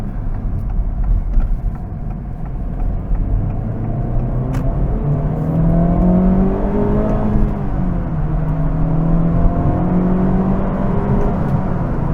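A 2024 Acura Integra Type S driving fast at night, a smooth steady engine drone with rising and falling tones as it shifts and accelerates, heard from inside the car.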